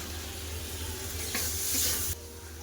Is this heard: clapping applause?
no